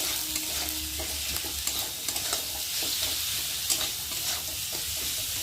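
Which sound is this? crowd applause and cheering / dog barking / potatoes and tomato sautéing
potatoes and tomato sautéing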